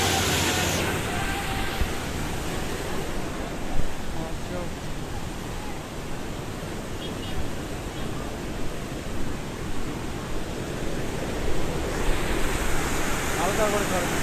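River current rushing past Buri Bandh in Thakurgaon: a steady, loud broadband wash of flowing water that holds constant throughout, with slight surges.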